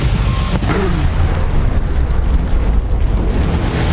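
Explosions and deep booms from a Netflix crime action trailer, a loud, dense rumbling barrage with a sharp burst near the start, continuous heavy low-end blasts throughout.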